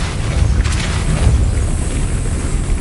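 Depulso spell cast in Hogwarts Legacy, a loud, dense rumbling boom that carries on as a heavy, steady wash of low noise, close and alone.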